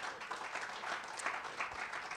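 A live show audience claps in a short, steady burst of applause. The sound is faint and distant, with a few sharper individual claps standing out.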